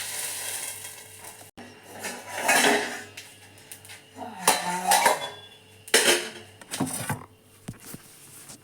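A lid clanks shut on a metal dosa pan over a home cooking setup, sharp metallic knocks and scrapes scattered amid light rattling, close and fairly clear.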